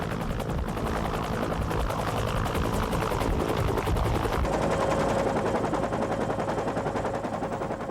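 A Cobra attack helicopter on a tactical training flight thrums steadily with rotor beat throughout, while rapid bursts of its machine gun fire rattle over it for the first half, loud and close.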